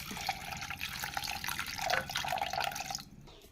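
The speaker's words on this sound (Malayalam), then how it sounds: "ഇത് വേവാനുള്ള വെള്ളവും ഒഴിച്ച് നമുക്ക് അടുപ്പത്ത് വെക്കാം." Water splashing and dripping into a cooking pot of prawn and jackfruit seed curry, a steady trickling pour lasting about three seconds at close range before it tapers off.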